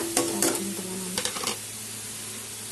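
Tomato with chili powder, cumin, turmeric and salt sautéing in a pan, a soft sizzle broken by a few sharp scraping stirs early on, then settling into a quieter steady fry.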